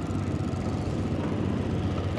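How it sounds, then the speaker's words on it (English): A boat engine idles with a steady, low, rumbling chug on the Mekong Delta, close by and unbroken for the whole stretch. "Our engine is starting."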